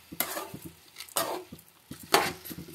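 A spoon scrapes and clanks through rice and vegetables in a pan, three distinct bursts of stirring with small taps between them, close and clear with no talk.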